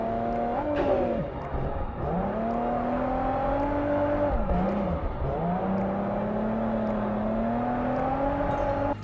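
Drift car engine in the racing game Japanese Drift Master, a steady close revving drone that rises and dips with shifts, with faint tire squeal, continuous throughout.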